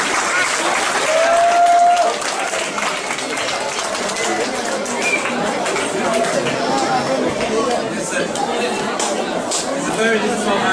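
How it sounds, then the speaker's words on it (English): Audience applause welcoming a guest speaker at a tutoring event: continuous clapping mixed with crowd murmur and some voices, holding at an even level throughout with a brief whistle near the start. "So with big applause,"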